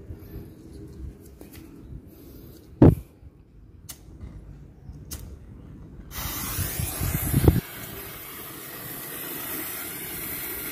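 A yellow coloured-smoke firecracker hisses inside a Monde cookie jar, a steady broadband spray that swells louder partway through and keeps rushing to the end, with a couple of sharp knocks earlier on.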